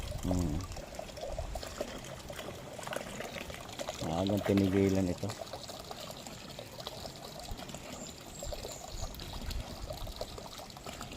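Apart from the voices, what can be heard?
water pouring out for watering plants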